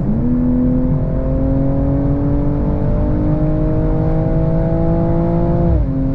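A 2022 BMW M240i in Sport Plus accelerates hard on a de-restricted Autobahn, its engine note climbing steadily and loudly from inside the cabin before dropping sharply at an upshift.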